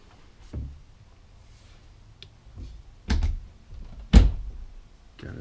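Drawers inside a 2017 Forest River Forester 3011DS Class C motor home are pulled open and pushed shut. Several separate wooden thunks and slides come at uneven intervals, and the last knock is the loudest, in a quiet interior.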